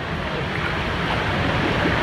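Fast-moving tidal water surges in a dense, continuous roar of waves and rushing current, loud and close, with wind noise mixed in and no talking.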